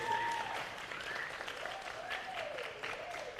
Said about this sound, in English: Can we get another huge round of applause?